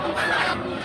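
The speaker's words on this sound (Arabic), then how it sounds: "هذا ديك بولوني" A Bolognese rooster clucks at a busy animal and bird market in Mosul, a short, loud close call over steady crowd noise.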